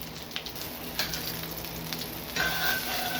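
A wagyu flat iron steak sears in a hot pan with a steady, fairly quiet hiss and sizzle, a few soft bumps and a brief swell near the end, close by with no talking.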